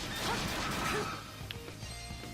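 Rapid combo strikes from Ys VIII: Lacrimosa of Dana on PS4, a cluster of crashing impacts in the first second fading into lighter hits and background game music.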